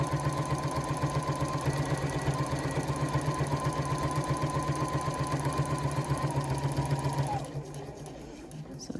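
A sewing machine runs steadily at a slow, even pace while stitching the corner of an interior zipper pocket, its rhythmic needle chatter close and continuous before it stops near the end.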